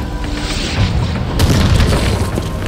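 A tank blows up in the video game Far Cry 6, a heavy booming explosion with a deep rumbling low end that swells and lingers over the whole moment.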